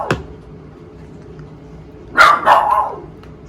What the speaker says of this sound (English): sorry about that, it's my dog.